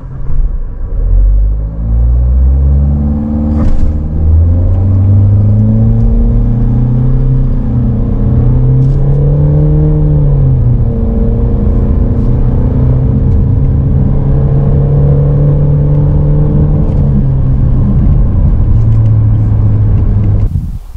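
A Renault Koleos 2.0 dCi diesel SUV, a 2023 model, accelerates at full throttle. Its loud, steady engine drone rises in pitch through a series of gear changes and keeps pulling hard under a continuous rumble, with no talking.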